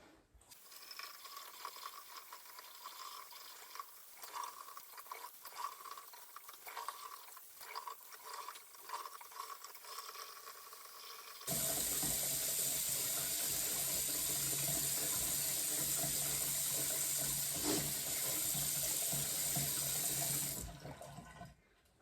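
A tap runs into a sink while a face mask is rinsed off, quietly and unevenly at first with splashing, then as a steadier, fuller stream of running water before stopping.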